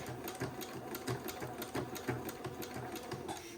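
A sewing machine zigzag stitches along seams of a boy's white batiste suit, a fast, even mechanical chatter running steadily close by.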